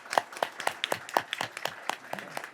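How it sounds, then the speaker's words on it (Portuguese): A small audience at a solar energy storage conference session claps for the panel, sparse distinct hand claps at an uneven rhythm, moderately quiet, with no talking. "uma salva de palmas para essa mesa"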